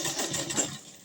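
Sewing machine running steadily, back-stitching to lock the seam of an oversize party-wear blouse, a continuous close whirring hum with no talk.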